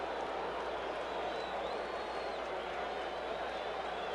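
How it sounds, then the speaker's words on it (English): Baseball stadium crowd at Game 7 of the 1982 World Series, Brewers at Cardinals, roaring in a steady, dense wash of cheering and noise that holds loud and unbroken throughout. "You heard the crowd react with Paul Sutter"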